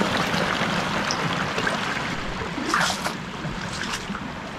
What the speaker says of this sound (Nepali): जताततैबाट पानीहरू बगिरहेको छ